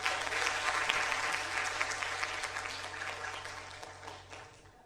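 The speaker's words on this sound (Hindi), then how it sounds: "तालियां।" An audience in a theatre auditorium at a national theatre festival breaks into applause, a dense patter of many hands clapping that starts strong and gradually fades out.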